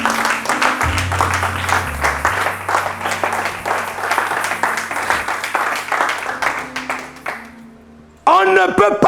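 A church congregation applauds the Lord with sustained, dense clapping under a low held organ or keyboard tone, the applause fading near the end before a voice speaks loudly.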